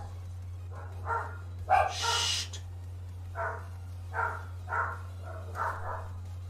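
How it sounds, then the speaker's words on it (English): Dogs bark indoors in about six short, separate bursts over a steady low electrical hum. A person hushes them once. "apologies for the dogs barking"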